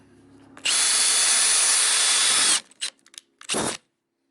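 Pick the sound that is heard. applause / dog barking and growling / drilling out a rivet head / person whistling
drilling out a rivet head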